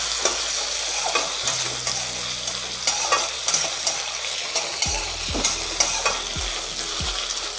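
Potato and tomato pieces fry in a pan, a bright sizzle carried along by repeated stirring scrapes and soft knocks that come in quick bursts, growing more frequent toward the end, with a faint low hum underneath.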